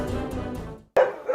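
A dog barks in a single sharp yip near the close of a Hindi news bulletin, following a stretch of spoken narration, then a brief pause and a second short bark-like burst.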